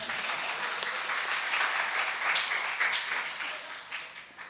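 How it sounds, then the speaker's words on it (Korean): An audience at a talk at the Korea National Diplomatic Academy breaks into applause, a steady wash of clapping from a seated crowd, moderately loud, that holds for a few seconds and then tapers off. "박수 안 쳐요?"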